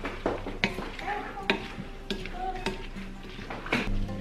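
A spoon stirs börek filling seasoned with sweet pepper in a bowl, giving close, steady scraping and soft wet mixing with occasional sharper clinks against the side, no talk.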